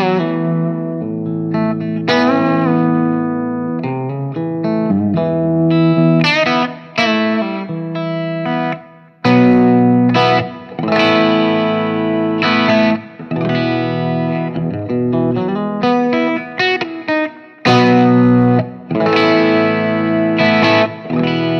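A Telecaster played clean through a Berkshire Grape Ape amp: chords and single-note phrases ring out, broken by short pauses between lines, fairly loud and with no speech over them.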